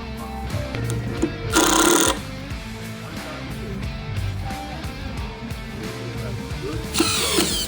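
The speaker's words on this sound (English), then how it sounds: "Al secured the sides to that framing with a few screws on each side" A power drill drives screws into the wooden framing of a Ford Model A luggage trunk box, with two short, loud whirring bursts separated by quieter workshop handling and background noise.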